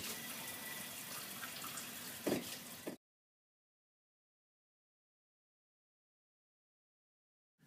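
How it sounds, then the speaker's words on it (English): Water from a lab eye wash station gushes in a steady hiss for about three seconds, with a brief knock, then cuts off to silence. "Turn on the eye wash and use for 15 minutes."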